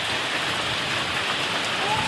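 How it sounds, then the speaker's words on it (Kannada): Heavy rain pours steadily, a dense, even hiss of falling water with no pauses. "ಮಳೆ ಜೋರು ಜೋರು ಹೊಂಟದ್ರಿ"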